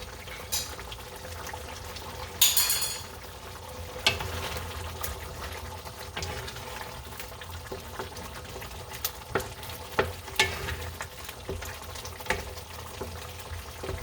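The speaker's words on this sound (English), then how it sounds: "I'm just going to try to mix it here really well." Wendy's-style chili is stirred in a pot, a low bubbling simmer with a continuous soft wet churning and scattered spoon clacks against the sides, close and unaccompanied by talk.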